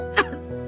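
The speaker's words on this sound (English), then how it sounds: "Pisces' sickly cough stopped all the princesses." A cartoon princess gives one short, weak, sickly cough, a single breathy burst followed by quiet.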